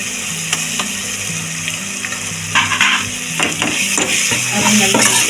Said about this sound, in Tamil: இப்போ இஞ்சி பூண்டு பேஸ்ட்டு போட்டுப்போம்